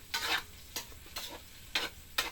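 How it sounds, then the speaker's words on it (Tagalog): Garlic, onion, tomato and green chili sauté in a pan with a faint, quiet sizzle. Four or five distinct scraping stir strokes fall at irregular intervals, close but soft, with no voices. "Naigisa na natin yung ating bawang, sibuyas, kamatis, at saka sili na green."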